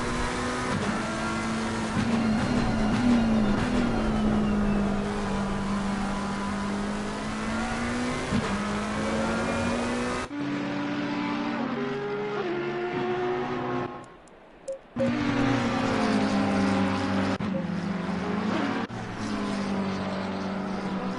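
Race cars, Ferraris and Porsches among them, lap the Nürburgring with loud, close engines whining and shifting through the gears. One car's sound cuts sharply to another's, with a brief near-silent gap before the next car's engine returns, and no talk.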